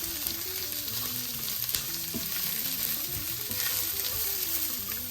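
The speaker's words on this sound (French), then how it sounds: "J'ajoute maintenant les 2 carottes et je vais laisser revenir" Onion and two purple carrots frying gently over low heat in a pan, a steady close sizzle that runs throughout with no voices.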